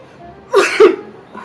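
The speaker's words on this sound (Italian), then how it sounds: "Fa un po' lo starnuto" A single short sneeze is put on by a person when asked, a quick two-part burst lasting under half a second and heard close up in an otherwise quiet room.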